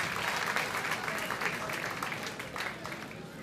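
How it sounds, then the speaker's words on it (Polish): Audience applause at a 15th-anniversary concert for a band, a steady wash of clapping from a crowd lasting throughout at moderate level, with no voices over it. "Wielkie brawa, proszę Państwa."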